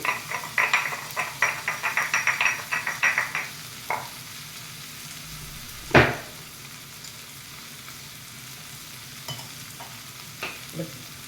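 Crushed black pepper and cumin seeds are dry-roasted and stirred in a pan. A fast run of scraping, rattling strokes comes first, then a quieter faint sizzle broken by a sharp knock and a few scattered scrapes.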